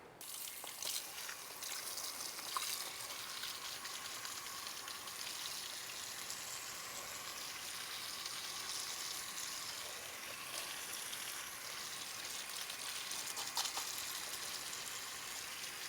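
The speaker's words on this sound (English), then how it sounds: "let me rinse it and then I'll dump this outside." Water runs steadily while a plant pot gets rinsed out, a continuous splashing, gushing hiss at moderate level that carries on evenly without talk.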